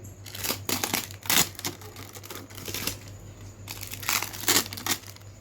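Adhesive tape peeling and crinkling off a 48V lithium battery pack during BMS wiring repair, a run of close, bursty tearing and crackling strips over a steady low electrical hum, with no talk.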